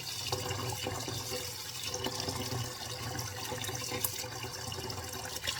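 Water is poured over jasmine rice mixed with brown rice in a pot, giving a steady close splashing and trickling rush that runs without pause and with no speech.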